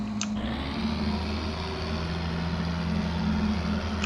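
A four-cylinder tractor engine running in a farming video game gives a steady, even low drone that holds at the same pitch and loudness throughout, with no talk over it.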